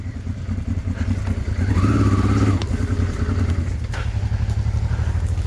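Honda Transalp motorcycle powering through a muddy bog on the TET trail, its engine roaring loud and close with sustained throttle and surging revs throughout.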